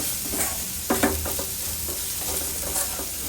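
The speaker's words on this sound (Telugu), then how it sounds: "పచ్చిమిర్చి కూడా ఫ్రై చేసి" Green chillies fry in a pan with a steady, close sizzle, broken by a few stirring scrapes and light clinks.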